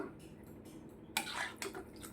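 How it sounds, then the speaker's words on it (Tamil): Water poured into a pan of simmering okra curry, a short splashing burst after a quiet moment, with a second smaller splash, soft and close. "நம்ம தேவையான அளவு தண்ணி ஊற்றிக்கலாம்"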